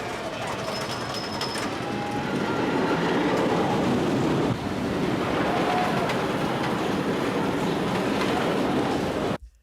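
Intimidator 305, a 305-foot-tall giga roller coaster at Kings Dominion, sends its train along the track in a loud, steady rumbling roar that lasts about nine seconds and then cuts off abruptly.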